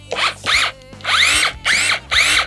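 Dnipro-M CS 12 battery mini chainsaw revving in five loud, close bursts, each whine rising and falling with short quiet gaps between, and no talk.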